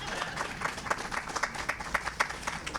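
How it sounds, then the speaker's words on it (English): Clapping from a crowd gathered for the dedication of a Clackamas County health center on Lake Road, moderate and somewhat distant, with individual claps popping out over a continuous roomy wash of applause. "More applause, please."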